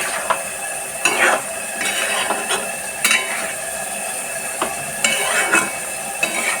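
Leafy greens stirred in a frying pan with a spatula, several distinct scraping strokes at irregular intervals over a soft, constant sizzle, close and fairly loud; no talking.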